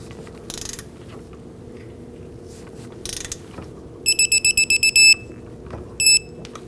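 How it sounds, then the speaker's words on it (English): A torque wrench tightens the lower rear shock absorber bolt on a 2001-2009 Volvo S60, giving a few short ratchet bursts followed by a rapid series of sharp clicks as it reaches torque, close and loud. "Torque down the lower bolt to 77 foot-pounds."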